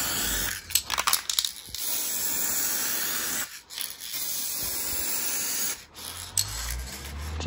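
Spray gun laying 2K clear coat onto VW Golf GTI Mk5 headlights, a steady loud hiss in several passes with brief pauses between bursts, no talking.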